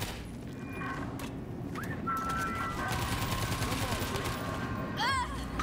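Gunfire in the World War Z video game, with dense overlapping shots crackling steadily across the scene under continuous busy noise, with a couple of brief whistling, chirp-like tones near the end.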